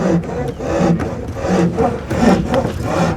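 Wood being sawn by hand with a hand saw, steady rasping back-and-forth strokes repeating in a continuous rhythm, close and fairly loud with no talking.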